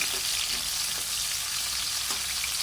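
Garlic and green tomatoes sauté in hot oil in a pan, giving a steady, even sizzle and fry with faint stirring clicks and no voices.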